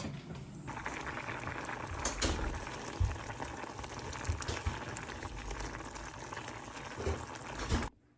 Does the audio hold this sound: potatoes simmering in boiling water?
yes